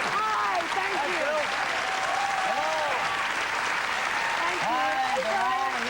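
A studio audience claps steadily in a dense, continuous burst of applause, while a voice speaks over it through much of the stretch.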